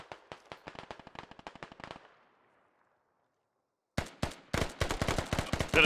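Rapid automatic gunfire in an online military shooter game, first a steady burst of closely spaced shots, then a pause of silence, then louder, denser bursts resuming nearby.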